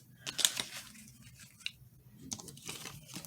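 Scissors snip through altered playing cards, a series of quiet, irregular crisp cuts and paper rustles close by.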